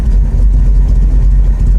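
Exhaust of a 1967 Shelby GT500 Ford with a racing hydraulic roller cam and roller rockers, a steady, loud low rumble at idle filling the whole clip with no talk.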